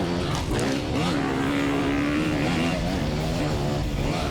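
Motocross bikes racing on a Queensland Moto Park track during a ProMX championship round, engines droning loud and continuous with shifting revs throughout.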